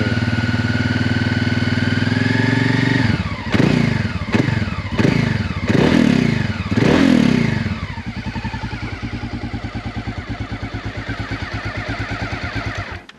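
A large adventure motorcycle engine idles with a deep, uneven throb, then is blipped through several sharp revs in quick succession before settling back to a lower, steady idle, close and loud.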